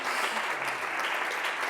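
Audience applause at a chamber music award ceremony, a steady, moderately loud wash of many hands clapping without pause.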